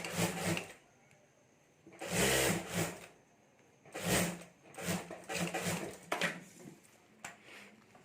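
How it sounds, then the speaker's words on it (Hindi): A sewing machine stitches a zip onto a homemade clutch bag, running in several brief, uneven bursts close by with short stops in between. "और अब यहाँ जिप के साथ हमें सिलाई कर देनी है।"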